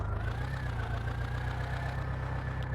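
A video-game tractor engine carrying a full load idles with a steady low, throbbing drone that holds unchanged throughout, with no talk over it.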